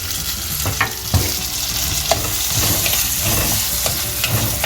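Chopped tomato is stirred into a Malabar-style fish curry masala with mango, frying in a pan. A steady loud sizzle runs throughout, broken by a few scraping stirs of the spoon.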